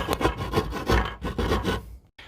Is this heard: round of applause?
no